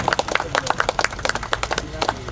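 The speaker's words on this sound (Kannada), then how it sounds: "ಎಲ್ಲರೂ ಚಪ್ಪಾಳೆ ತಟ್ಟಿ ಅವರನ್ನು ಹುರಿದುಂಬಿಸಬೇಕು." Audience at a blood donation camp event clapping, a brisk run of distinct close handclaps in quick uneven rhythm, moderately loud.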